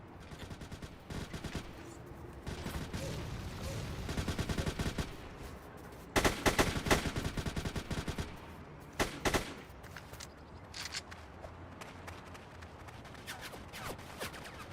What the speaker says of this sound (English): And of course, shooting through the smoke.